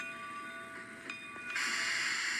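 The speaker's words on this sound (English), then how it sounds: "This train that we're passing at the moment was the first locomotive that I placed on this route" A locomotive passes in a train video game on the Wispanatche, Maine & Southeastern route, with a steady rail roar, tonal whine and a sudden hissing surge toward the end. No voices are heard.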